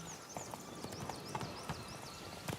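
Roach, the horse in The Witcher 3, clip-clops in a steady walking rhythm of close, distinct hoof strikes, with no talk.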